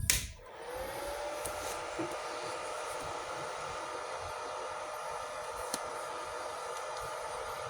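A gasless MIG welding machine clicks on at the back switch and settles into a steady, even fan whir and hum, fairly quiet and unbroken, with no talking.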